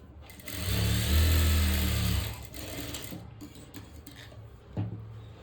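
A sewing machine stitches the lining of a cups blouse, running loud and steady for about two seconds, then continuing more softly in short uneven bursts with a single sharp knock near the end.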